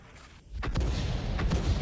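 A heavy gun fires in a tank video game as an artillery round goes out: a dull, muffled boom rises sharply and rolls on as a sustained low rumble, fairly loud and with no talk over it.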